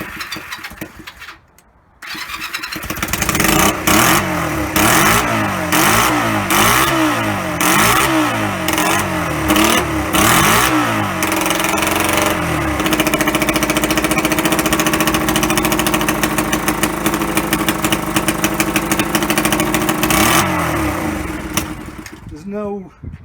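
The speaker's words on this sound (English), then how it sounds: "There's no seals in the exhaust, which is why it's making such an horrible noise, but it's alive!" A 1983 Honda CM125C barn-find motorcycle with no seals in its exhaust sputters, then fires and runs loud and raw, with choppy rhythmic pulses settling into a harsh, steady idle up close.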